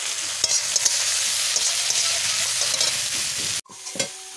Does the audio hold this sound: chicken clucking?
no